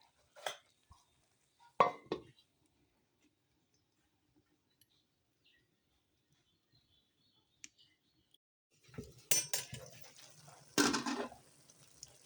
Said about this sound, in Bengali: এখন ঢাকনা দিয়ে ঢেকে দিব।